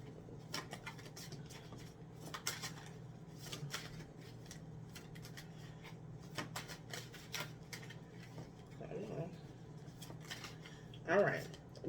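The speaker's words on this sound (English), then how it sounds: "I'm gonna shuffle again." Steady papery riffling and soft slaps of tarot cards being shuffled, continuing throughout over a low hum, with a brief louder burst near the end.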